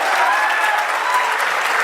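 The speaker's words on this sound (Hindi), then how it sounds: "एक बार सारे मिलके इसके लिए जोरदार तालियां बजा दो।" An audience at a Hindi poetry show applauds, dense steady clapping filling the whole moment at close, even loudness.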